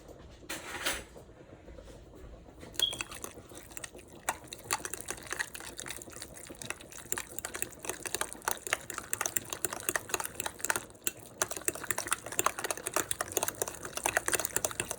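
A metal fork mashes ricotta cheese in a bowl for lasagna, making a steady run of quick scraping clicks against the bowl that grow busier and louder toward the end, with no talking.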